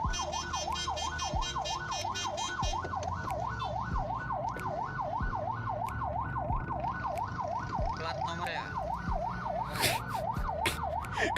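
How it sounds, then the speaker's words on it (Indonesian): An ambulance siren wails in a rapid, regular up-and-down pattern, moderately loud and continuous, with traffic noise and a few sharp bursts underneath. "Masa kuping lu kagak kedengeran suara ambulan?"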